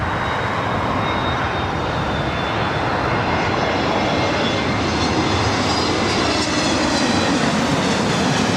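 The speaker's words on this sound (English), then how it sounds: "It's the A321neo with American coming in from the Valley of the Sun" An American Airlines Airbus A321neo airliner arriving from Phoenix and landing on runway 24 right at LAX, its engines a steady, loud broadband roar that swells slightly toward the end, with no talk.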